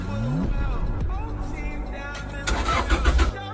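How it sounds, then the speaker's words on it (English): A rough-running car under restoration cranks and fires, its engine sputtering unevenly with a brief louder surge near the end, mixed with faint background voices. "Engine still sounds rough."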